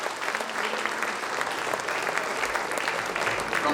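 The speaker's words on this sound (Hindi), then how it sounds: "मैं चाहता हूँ एक बार उनके सम्मान में जोरदार ताली।" An audience at a Hindi poetry recital applauds loudly and steadily, with dense, sustained clapping that fills the whole stretch and no voices rising above it.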